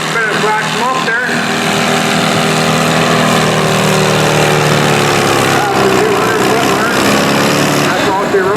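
A Massey Ferguson tractor engine pulls under load while puffing black smoke, a steady loud drone running throughout with a voice talking over it.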